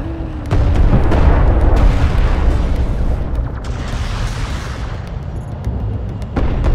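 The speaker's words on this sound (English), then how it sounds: "Alert, carrier is taking fire." Heavy battle fire hits the command carrier in Homeworld: Deserts of Kharak, a dense run of booming, rumbling impacts and explosions that stays loud and continuous.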